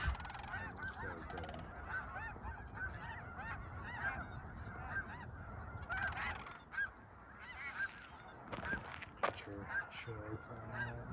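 A flock of geese honks continuously, many overlapping calls nearby and fairly loud, with occasional faint human voices underneath.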